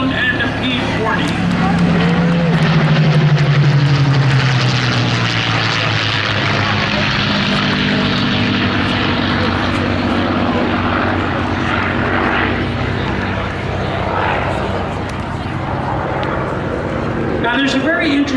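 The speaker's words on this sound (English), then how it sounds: "From the left, ladies and gentlemen, the P-51 and the P-40." P-51 Mustang and P-40 warbirds make a sustained, loud propeller-engine drone as they fly past at the Greenwood Lake airshow, with a rising and falling pitch and a public-address commentator talking over it.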